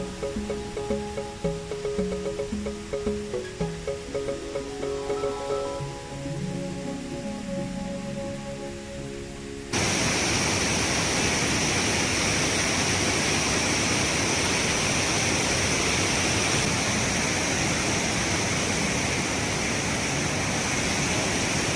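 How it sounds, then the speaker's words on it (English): A waterfall on the Annapurna Base Camp trek in Nepal, a loud, steady broadband roar of falling water that bursts in abruptly after a stretch of music and holds constant and close. "we were pleasantly rewarded to a view of a beautiful waterfall"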